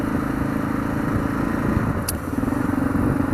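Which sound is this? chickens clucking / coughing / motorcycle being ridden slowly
motorcycle being ridden slowly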